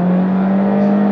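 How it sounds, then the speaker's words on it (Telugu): A Volkswagen Virtus GT with a 1.5L TSI engine and DSG gearbox pulling hard, a steady loud engine drone with a strong held tone and rising whir heard from inside, brief and continuous. "6300 RPM షిఫ్ట్ అవుతుంది అండ్ ఇన్స్టెంట్ యాక్సలరేషన్ మనకి ఆఫర్ చేస్తుంది"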